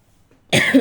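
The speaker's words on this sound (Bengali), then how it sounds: "আমার অনেক ঠান্ডা লাগছে, আমি কোথাও বলতে পারতেছি না, এত কাশি" A single short, harsh cough bursts out close by after a moment of near silence, from a person with a cold.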